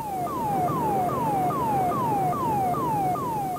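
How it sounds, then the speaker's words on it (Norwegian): Emergency position-indicating radio beacon signal on maritime radio: a steady run of about eight identical falling whoops, repeating rhythmically and clearly over a constant radio hiss. "Nødpeilesender."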